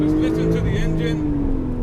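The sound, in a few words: Porsche sports car engine on a race circuit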